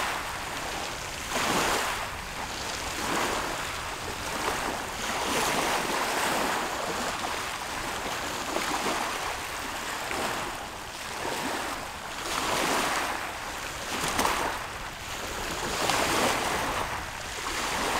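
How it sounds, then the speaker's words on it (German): Sea waves wash onto a pebbly shore at Sibenik, swelling and receding in slow, regular surges about every two to three seconds, close and fairly loud with some wind buffeting the microphone. "Ein bisschen Meeresrausch."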